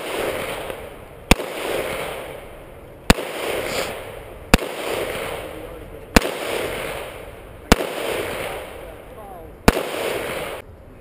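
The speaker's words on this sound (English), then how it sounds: "He's shooting." Repeated gunshots at a bowling-pin shooting match at a fish and game club, seven sharp cracks spaced about every one to two seconds, loud and close, each followed by a decaying echo.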